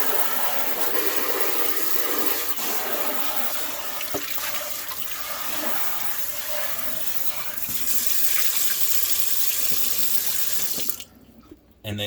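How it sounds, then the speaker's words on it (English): Hot tap water runs steadily into a sink as a pet water bowl is rinsed, a loud continuous splashing gush that cuts off near the end. "You rinse it with hot water."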